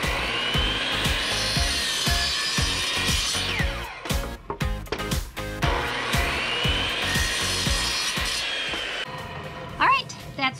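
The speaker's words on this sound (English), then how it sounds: "because these are 1x8, so I'll have to cut this twice" A handsaw cuts through a 1x8 wooden board with rhythmic, rasping push-and-pull strokes, close and fairly loud. The strokes speed up into quick short bursts midway, then settle back into long steady strokes before the cut ends.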